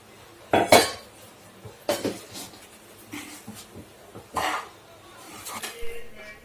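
Sugar is stirred into a coconut barfi mixture in a pan, giving scattered metallic scrapes and clinks of a spoon against the pan between quiet pauses.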